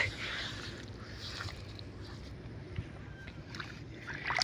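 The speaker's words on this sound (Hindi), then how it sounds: "अभी ये पानी आ रहा है" Water running along small channels dug into the ground to spell out letters beside a village stream, a steady close trickling wash with faint breezy noise and no voices.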